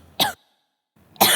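A character coughs hard during a school musical drama staged by a Class XII group: two sharp, close coughs separated by a short silence.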